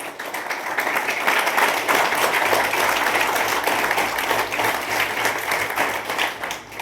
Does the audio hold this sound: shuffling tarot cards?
no